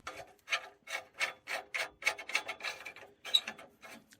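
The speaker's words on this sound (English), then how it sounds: "Again, just going to do it with a hand wrench as opposed to an impact or anything." An O2 sensor defouler on a Nissan 350z being tightened by hand with a wrench, giving a regular series of short ratcheting rasps, roughly two per second, close and clear with no talking.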